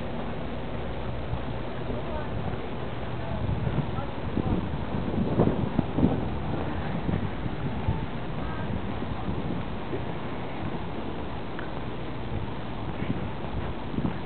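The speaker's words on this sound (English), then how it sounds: "it's nice and breezy" Breezy wind buffets a microphone on an evening walk past an empty parking lot, a steady low rumble through the whole stretch with gusts swelling midway, while speech is also picked up.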